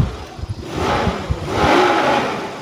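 The engine of a 1996 Suzuki Katana GX in sound condition revs up from a low idle rumble and swells to a moderate, smooth rise, heard close by.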